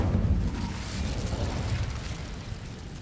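A fire spell is cast in Hogwarts Legacy, heard as a soft whooshing burst with a low rumble that fades over a few seconds; fairly quiet, with no talking.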